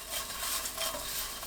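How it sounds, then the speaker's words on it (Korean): Dried seaweed being stir-fried in perilla oil over low heat, a steady close sizzle with constant stirring scrapes and rustle, even and unbroken throughout. "들기름 1큰술 넣어주세요. 약불로 1분 30초 볶습니다."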